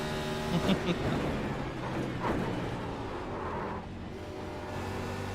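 A car with tape applied to its bodywork running hard at a race track day, its engine droning steadily and loudly throughout from inside the cabin, with a few brief surges and no talk.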